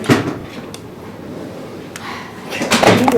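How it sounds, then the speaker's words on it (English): A door in an old mansion opens with a soft creak and the clunk of its handle, followed by louder rattling and shuffling near the end, heard close in a room with no talk. "Did you open that door?"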